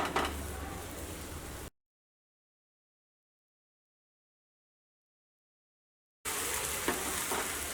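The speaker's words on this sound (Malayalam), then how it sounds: "ഞാനിവിടെ നെയ്യാണ് അപ്ലൈ ചെയ്യണത്" Sweet sugar-filled chapati frying in ghee on a pan gives a close, busy sizzle that cuts to dead silence for several seconds, then resumes just as loud.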